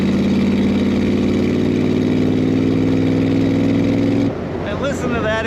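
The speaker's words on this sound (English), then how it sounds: "And listen to that exhaust note." A 1966 Shelby Cobra replica's loud engine hums steadily and then drops in pitch near the end, with someone speaking over the sustained exhaust tone.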